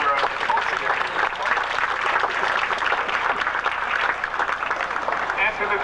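An audience at an event at Peachland Marina gives a round of applause, continuous clapping at moderate volume lasting several seconds, with voices talking over it.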